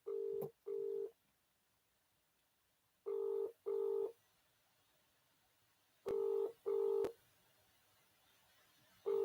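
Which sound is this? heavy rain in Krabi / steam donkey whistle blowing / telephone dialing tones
telephone dialing tones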